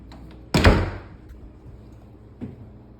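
Narrow 18-inch door in a newly finished bath house, one sharp wooden thunk as it swings shut, followed by quiet and a softer knock a couple of seconds later.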